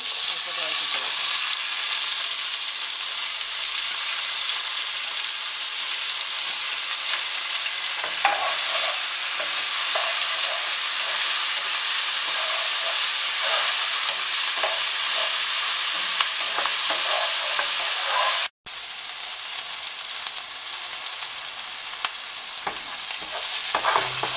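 Onions sizzle steadily in hot oil in a pan for chicken biryani, with a continuous close frying hiss and occasional stirring scrapes, broken by a brief gap near the end.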